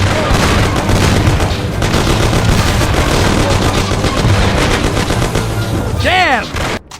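Dense, continuous gunfire fills a shootout in the video game Mafia: The City of Lost Heaven, loud and close with rapid overlapping shots, ending in a rising whine and a sudden drop near the end.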